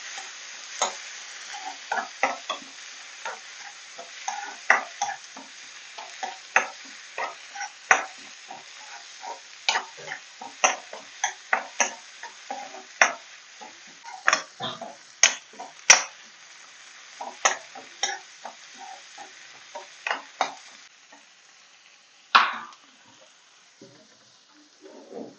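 Tomatoes and golden-brown onions being stirred in a pan, a soft sizzle under repeated sharp scrapes and knocks of the spoon at an uneven rhythm, close and without speech.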